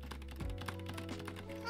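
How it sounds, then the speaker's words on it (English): Light, rapid keystrokes clatter on a Mill-Max hotswap mechanical keyboard, a short close run of soft taps with fingers striking the board, recorded alone with no talking. "you hear your fingers smack the board more than anything"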